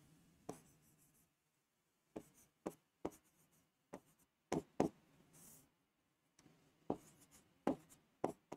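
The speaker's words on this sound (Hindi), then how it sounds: "अलग अलग एग्जाम्पल लिख रहा हूं मैं" Chalk or marker writing on a classroom board comes as quiet, irregular bursts of tapping and scratching strokes separated by short silences, fairly close and with no talking.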